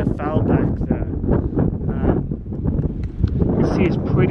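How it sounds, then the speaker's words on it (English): Strong, steady wind buffets the microphone with a constant low roar on the Ala Kul trail in Kyrgyzstan, gusting slightly throughout with no pauses. "It's pretty windy"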